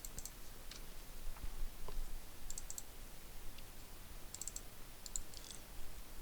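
Faint, crisp clicks of a computer mouse in short clusters against a quiet room hiss, a few single clicks and a few rapid double clicks spread over several seconds.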